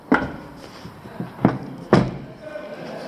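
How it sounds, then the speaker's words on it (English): A few solid thumps and slams of a 2019 Toyota Corolla's tailgate being shut, with a couple of lighter knocks in between. "Here we have handle from both sides, so nice to close the tailgate."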